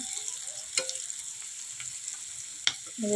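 Onions frying in a pan while being cooked until reddish-brown, a soft steady sizzle with a few sharp spatula scrapes and knocks against the pan and a brief clatter at the end.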